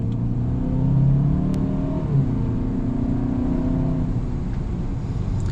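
A 2027 Kia Telluride SUV with a turbocharged four-cylinder engine accelerates on a road, its engine humming in a steady, close drone that swells slightly as it pulls, with tire and road rumble underneath.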